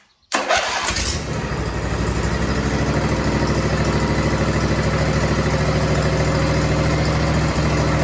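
A John Deere fitted with a swapped-in Suzuki engine cranks and catches, then settles into a steady, loud, close idle with an even throbbing pulse that carries on for several seconds.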